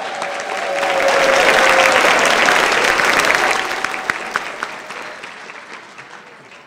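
Sustained applause from a crowd at a staff awards evening, rising quickly to a full, steady roar and then thinning out, with a few scattered claps lingering at the end.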